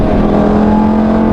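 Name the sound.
Lamborghini Gallardo engine revving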